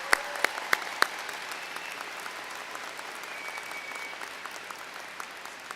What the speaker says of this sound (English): Please join me in giving a round of applause for these wonderful individuals.